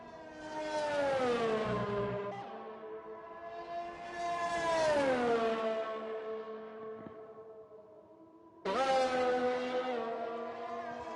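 An F4 race car's engine on a simulated Belgian circuit in a sim racing game screams through rising pitch sweeps as it accelerates and shifts gears, with a sharp return after a brief lift, heard clearly with no talk.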